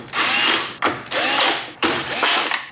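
A power drill drives a screw into the cover of a Better Packages BP555e gummed tape dispenser during repair, three close, loud whirring bursts with brief pauses between them.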